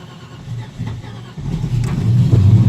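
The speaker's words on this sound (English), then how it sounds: "I'm going to start using a tiny little bit of throttle just to establish whether I need a little bit" An LPG-fuelled car engine on a zero-degree cold start, idling low and then rising into a steadier, louder rev as light throttle is applied, close up with no talking.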